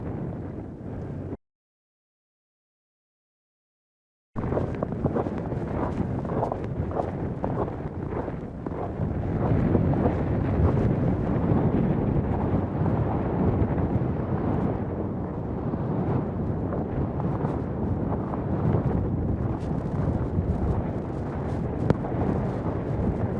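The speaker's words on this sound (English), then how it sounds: "it's always quite windy up there" Strong, steady wind roaring and buffeting across the microphone on a mountain summit, constant and loud, with a brief dropout near the start.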